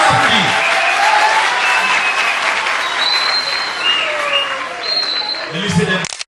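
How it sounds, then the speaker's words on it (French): Sustained applause from a school crowd of classmates at a prize-giving ceremony, loud and steady across the whole stretch and fading out abruptly at the end. "Fortement applaudi par ses condisciples."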